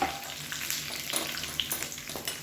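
Peanuts, curry leaves and a broken dried red chilli fry in hot oil with a steady, close crackling sizzle and some stirring, no voices over it.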